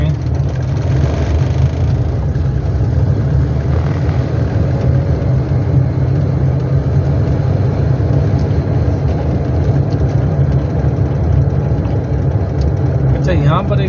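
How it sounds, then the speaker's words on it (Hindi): Car driving slowly along city streets, a steady close engine hum and road rumble running throughout without pause, with someone talking over it. "गाड़ी में स्लो चला रहा हूँ"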